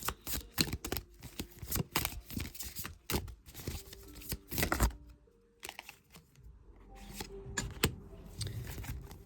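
Tarot cards are shuffled and drawn by hand, giving a run of quick close papery flicks and snaps followed by softer sliding and handling sounds.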